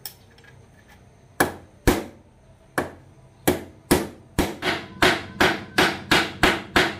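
Hammer blows driving a used steering head bearing race on a Kawasaki Ninja 150RR: sharp metallic strikes, sparse at first, then a steady quickening run of a dozen or so ringing hits, close and loud with no talking.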